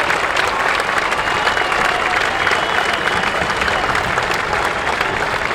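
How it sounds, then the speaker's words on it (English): Crowd applause at a high school football game between Mercedes and Edcouch-Elsa, steady broad clapping from spectators in the stands, continuous and fairly loud throughout. "Round of applause."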